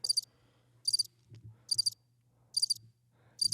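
A cricket chirps in short bursts, about one every second, over a faint low hum, clear and fairly close with quiet gaps between.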